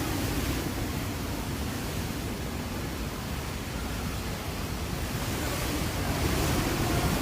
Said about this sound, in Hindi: समंदर में 13 फीट तक ऊंची लहर।